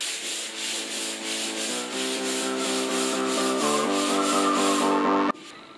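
Steady rhythmic sanding of the painted surface of a dining room in a 1930s house, close and loud, with even repeated strokes that stop abruptly near the end.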